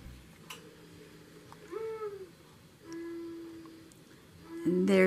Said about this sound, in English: There's my bird clock right on schedule.